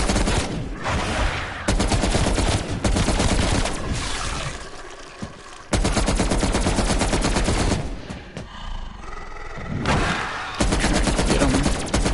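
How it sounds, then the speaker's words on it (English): Machine gun fire in Call of Duty Black Ops Cold War zombies on Firebase Z, several long loud automatic bursts separated by short pauses, with dense rapid shots and a background rumble. "I'm actually gonna pull out my MG."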